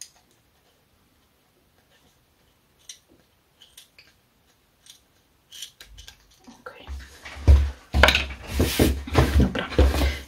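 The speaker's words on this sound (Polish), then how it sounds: "Ja sobie wezmę jakieś inne nożyczki." Fabric scissors used for trimming lace cut through card during anniversary cardmaking, starting as faint scattered snips and building to dense, close crisp cutting and rustling in the last few seconds, with no talk.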